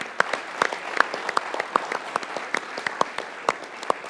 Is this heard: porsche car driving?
no